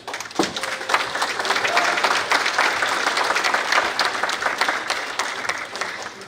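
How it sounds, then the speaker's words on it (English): Audience applause at a veterans dinner social, a steady dense clapping from a large room of guests that rises quickly and holds at full strength for several seconds before easing slightly. "So let's give a great round of applause to Susan."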